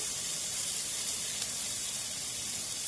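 Mustard seeds tempering in hot oil give a steady, even sizzle and hiss, close and constant throughout, with no voices.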